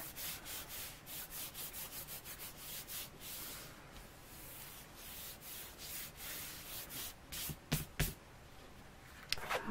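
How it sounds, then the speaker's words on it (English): Steady rhythmic rubbing strokes as a surface is burnished by hand in a magnetic frame fall decor craft project, soft and close, repeating evenly before a few sharper knocks near the end. "Turn that over and burnish it good."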